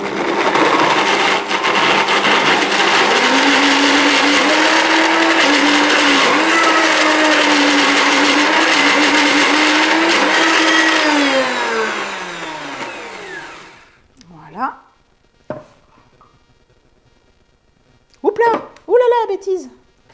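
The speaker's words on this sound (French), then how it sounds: "Donc je vais blender ça." A blender whirs loud and steady for about thirteen seconds as it purees raw vegan foie gras ingredients, then spins down, followed by brief clinks and faint handling noises.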